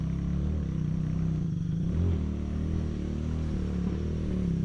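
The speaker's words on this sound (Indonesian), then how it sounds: "Ada motor di belakang." A motorcycle rumbles behind on a hill road, a steady low engine drone with slight swelling as it approaches, heard continuously without talk.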